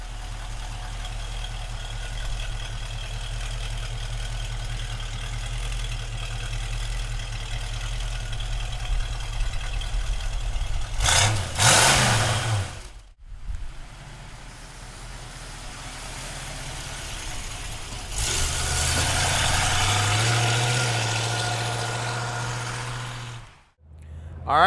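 A 1966 Ford Mustang convertible idles steadily with a low, continuous rumble, then two louder surges of engine revving break in midway and again near the end before settling.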